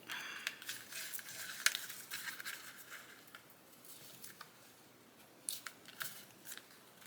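Scissors snip off excess thread on a handmade bound journal: a few short, crisp close cuts, with quiet handling noise in between.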